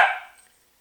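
A dog named Rocket lets out one short bark indoors in the early morning, sharp at first and then fading within a second.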